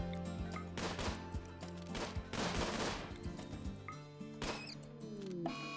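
Several sharp gunshots from colonists firing at a self-tamed hare in RimWorld, scattered irregularly over steady game music and ambience, moderately loud.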